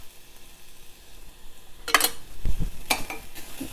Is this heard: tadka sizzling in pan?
yes